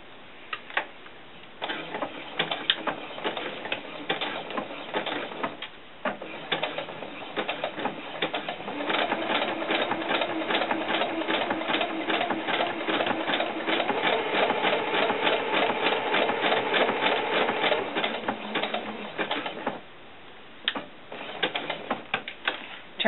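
A sewing machine runs a zigzag stitch across a doll skirt's fabric, a steady rapid mechanical clatter that starts and stops, with brief pauses at the beginning and end.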